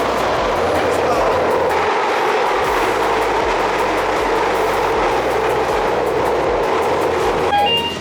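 A London train near its terminus at Brixton runs steadily on the rails with a loud, continuous rumble and faint rhythmic clatter. A brief squeal comes near the end.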